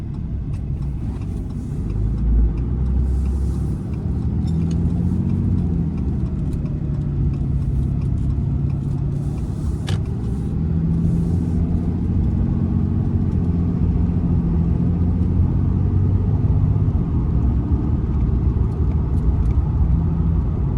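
A 2015 Ram 2500 pickup with the 6.7 Cummins diesel drives through a town, its low engine rumble and road noise steady and close from inside the cab, with no talk.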